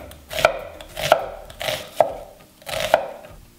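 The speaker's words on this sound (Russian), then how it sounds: "Лук нарезаем кубиком." Four sharp knife chops dicing onion on a cutting board, spaced unevenly about a second apart, each with a short slicing scrape, close and clear.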